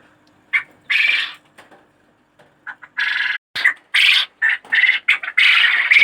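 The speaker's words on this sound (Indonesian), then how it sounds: "kita buka dulu nih pintu-pintu daripada burung puyuh" A pet quail in a cage at night gives repeated loud, harsh squawks in short bursts, close by, with brief silent gaps between calls.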